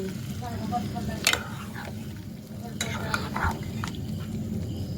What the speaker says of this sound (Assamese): এতিয়াখিনি ধুনীয়াকৈ অলপমান সময় ফ্ৰাই কৰি লওঁ।